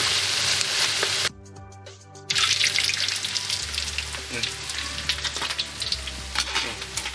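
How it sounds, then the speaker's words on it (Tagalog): Chicharon bulaklak (pork mesentery) deep-fries in its own rendered fat, a loud, steady crackling sizzle with dense popping, briefly dropping and muffled for about a second before the full spatter returns and continues close by. "piprito na siya sa sarili niyang mantika"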